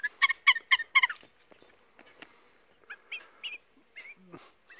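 A four-week-old rescued baby Western Australian magpie squawks while being hand-fed, opening with a loud, rapid burst of harsh repeated cries, then quieter, scattered chirps and squawks nearby.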